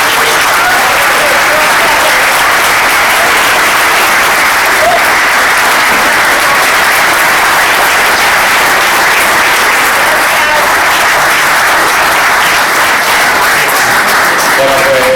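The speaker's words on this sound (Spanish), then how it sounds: "yo creo que esta familia se merece un aplauso por haber estado aquí" An audience claps steadily for a family at a Spanish-language book event, sustained dense applause filling the room at even loudness throughout.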